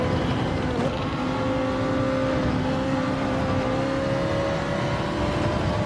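A damaged race car in the Gran Turismo video game, three tyres worn and front and rear hurt, drives on with a steady engine drone and shifting pitch, loud and continuous without talk.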